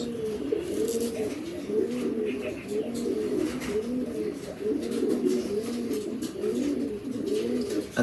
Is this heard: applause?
no